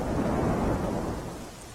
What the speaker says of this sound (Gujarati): ભરૂચમાં વહેલી સવારથી અનરાધાર વરસાદ વરસી રહ્યો છે